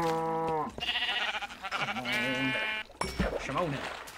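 Minecraft sheep bleat in a series of wavering, clear synthetic baas, loud and close, interleaved with a player talking over the game.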